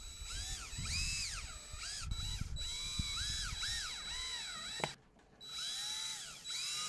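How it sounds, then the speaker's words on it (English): Power drill driving screws through a container lid into a wooden board, repeated whirring bursts rising and falling in pitch with brief pauses between them, close and fairly loud. "I can screw it onto the board"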